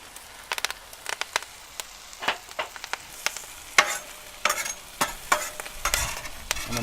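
Kale being stirred and fried on a hot griddle: irregular scraping and tossing bursts over a crackling sizzle, close and fairly loud, with no talking.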